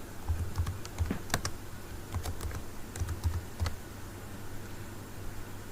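Quick bursts of clicking keystrokes on a computer keyboard while typing a table heading in an HTML tutorial, close and fairly quiet over a low steady hum, with brief pauses between bursts.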